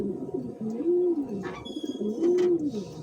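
Pigeons in a small loft cooing loudly and close by, with two rising and falling coos, a few brief wing or rustle sounds and a soft chirp between them.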